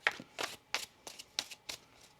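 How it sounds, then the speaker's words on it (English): Tarot cards being shuffled by hand, six quick papery bursts of riffling in a steady rhythm, close and fairly quiet with no talk. "One more shuffle."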